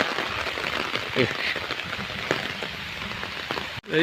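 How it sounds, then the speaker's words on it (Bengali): Rain falling at a zoo, a steady patter of drops on surfaces and foliage, soft and even throughout, with a faint voice underneath and a short bump near the end. "আবার কিন্তু বৃষ্টি শুরু হয়ে গেছে"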